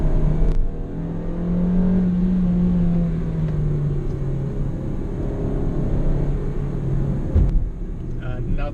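A car engine hums and revs close by while holding second gear through a hairpin turn on a winding road, a steady rumble with rising revs, heard under someone talking.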